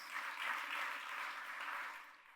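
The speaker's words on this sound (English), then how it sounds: "Folks, I think that's a round of applause also." Applause from the audience at the 2025 Guilford County State of the County Address, a brief, fairly faint burst of crowd clapping heard at a distance that swells slightly and fades out.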